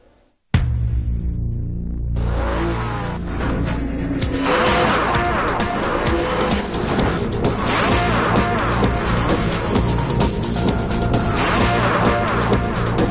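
Onboard a racing sports car at full throttle through a fast left-hand corner during a fastest lap, the engine roaring loud and steady close up for the whole stretch after a sudden start, with tire noise underneath and no talk.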